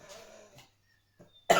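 A single sharp, loud cough bursts out near the end, preceded by faint vocal sounds and a short pause of near silence.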